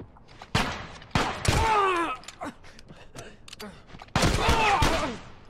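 Gunfire from the video game The Last of Us: Left Behind, with a few sharp shots and bursts in quick succession amid game effects and breathy gasps.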